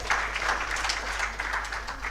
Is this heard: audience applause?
yes